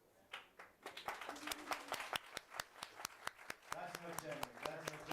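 Scattered applause from a small audience at a health-policy side event of the World Health Assembly, with irregular hand claps over about five seconds.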